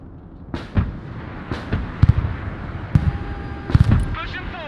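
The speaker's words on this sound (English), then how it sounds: "防空弹打到这个机库上，把这爱国者打到了，把复仇者打伤了" Several sharp explosive impacts from air defense missiles striking a hangar in the war game Broken Arrow, scattered over a few seconds amid battle noise, with a voice speaking in between.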